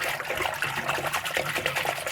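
Cold water running from a tap, a steady close splashing gush with bubbling texture that carries on without a break.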